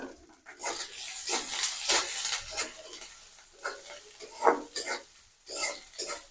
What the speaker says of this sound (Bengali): এখন আমি দিয়ে দিব কেটে রাখা পেঁয়াজ আর মরিচ।